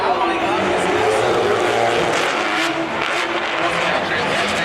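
Drift cars tear around the Formula D track at Monroe, Washington, their engines roaring loud and continuous with tire noise, while a commentator talks over the action.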